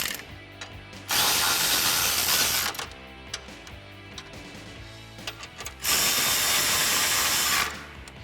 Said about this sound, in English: I'll go back with my 13mm socket on my ratchet and tighten them down.